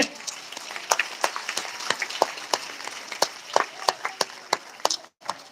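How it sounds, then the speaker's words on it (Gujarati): An audience at a school prize distribution for Class 10 and 12 students claps in scattered, uneven bursts, with individual sharp claps standing out, before the clapping cuts off briefly near the end. "જોરદાર તાળીઓથી વધાવીએ"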